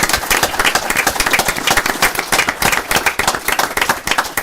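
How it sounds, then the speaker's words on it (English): A football club fans' forum audience applauds Jim O'Brien, with close, loud, dense clapping from a modest crowd that stays steady and uninterrupted, with no voices over it. "let's have a round of applause for Jim"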